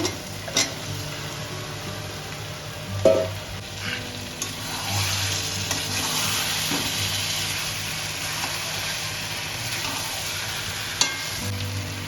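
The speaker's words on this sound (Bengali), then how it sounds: "এখন মাংসগুলো দিয়ে দেব ভাজা মাংসগুলো" Fried chicken pieces sizzle steadily in a hot pan with spice paste, a continuous frying hiss broken by several sharp clunks and scrapes from stirring, with no talking.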